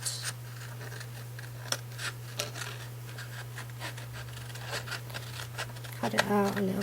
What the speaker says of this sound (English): I'm going to take my fussy cutting scissors.